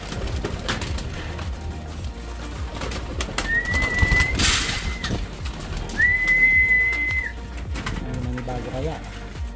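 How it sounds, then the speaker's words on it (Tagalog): Racing pigeons coo and shuffle around a loft's sputnik trapdoor, with bird sounds close by and two sustained whistles and a sharp clatter midway, while people talk throughout. "papasukin natin yung mga ibon"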